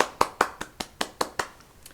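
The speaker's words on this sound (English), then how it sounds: "let me just clap for myself" A single person clapping their hands, about nine crisp, evenly spaced claps at a brisk steady rhythm, close and clear, tapering slightly softer at the end.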